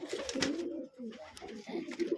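A domestic desi pigeon, a laying hen at a home loft, coos in low, throaty, rolling phrases that rise and fall in a steady rhythm, close and fairly clear.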